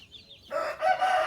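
On a farm, a chicken from a brooder of young chicks gives a loud crowing or clucking call, preceded by a faint high chirp. The call is brief and nearby.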